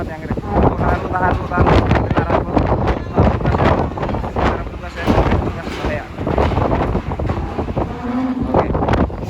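Strong wind roars across the microphone at a ferry harbor dock in Merak during severe weather, a loud continuous buffeting rush with speech partly audible beneath it.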